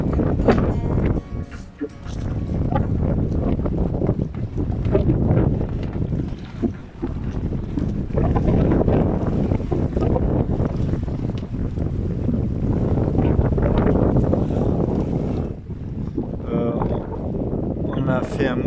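Strong wind buffets a boat anchored at the entrance to Macinaggio port in Corsica, roaring and gusting across the microphone with low rumble throughout, while people speak intermittently under the noise.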